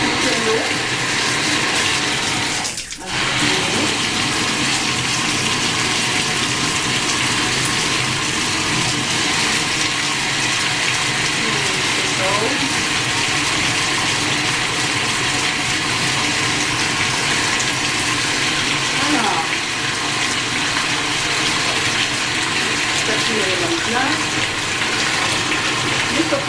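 Water runs from a tap in a bathroom during a care routine, a steady close hiss and splash that continues throughout, with a brief knock early on.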